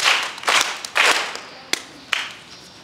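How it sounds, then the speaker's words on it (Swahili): A church audience claps three rounds of crisp, rhythmic handclaps in bursts close to the microphone, with a single sharp slap afterward and no talking. "mpigieni makofi matatu"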